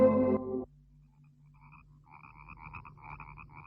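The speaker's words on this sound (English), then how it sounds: "There must be millions of them in those marshes. The frogs." Frogs croaking in a marsh as part of a radio drama: after a brief loud musical burst, a steady low drone with dense, repeated croaking calls builds up, fairly soft and continuous, with no talking.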